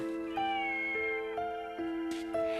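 A cat meows several times in a row, each call a clear, drawn-out tonal cry with short gaps between, close and alone with no talk over it.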